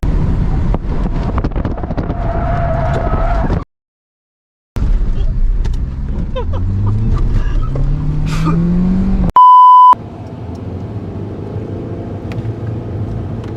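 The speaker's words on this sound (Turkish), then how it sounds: "Yol sesi hafiften var." Steady road and wind noise fills the cabin of a moving car travelling at 120 km/h, loud and continuous, broken by a brief gap and a short electronic beep.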